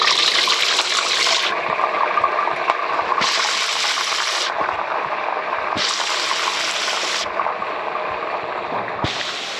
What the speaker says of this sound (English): Now we fry the prawn. Yeah, we heat the rapeseed oil. Let me just fry.